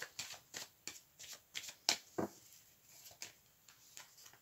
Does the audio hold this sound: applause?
no